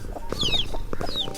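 A hen named Coco clucks in short, repeated bursts close by, with a few higher chirps from small animals mixed in, and no talking.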